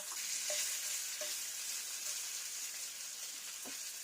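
Bacon sizzles in a pan with a steady, soft hiss of fat, punctuated by a few faint light clicks, heard close and without any voices.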